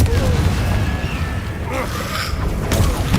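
A Confringo blast spell explodes in the video game Hogwarts Legacy, giving a loud, low booming burst over continuous battle noise, with a second rumbling impact near the end.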